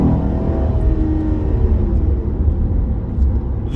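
A Chevrolet SS fitted with an intake and tune accelerates, its engine a loud, steady low rumble that holds throughout without a break.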